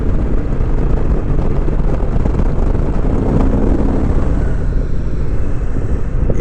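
A Honda VTX1300R motorcycle engine runs after winter storage, a loud, steady low rumble mixed with rushing wind noise on the microphone, continuous throughout with no talk.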